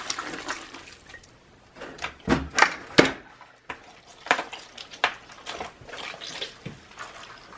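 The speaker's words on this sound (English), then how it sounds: "Trying to squish out as much water as you can." Wet shredded paper pulp being pressed and squished in a 12-inch pan to wring out water, giving bursts of squelching, sloshing and clattering sounds at close range, with a few louder splashes.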